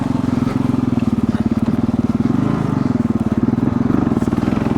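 Kawasaki KLR 650 motorcycle ridden off-road through woods, its single-cylinder engine thumping steadily and loud throughout, with wind rumble and some rattling over rough ground.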